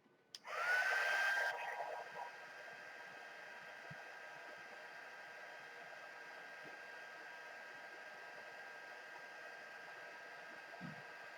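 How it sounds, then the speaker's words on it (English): A heat embossing tool blows hot air over embossing powder in a short, loud whoosh with a high whine that then settles to a faint steady hum. "I'm going to take my tweezers, hold my piece, and I'm going to go ahead and emboss this"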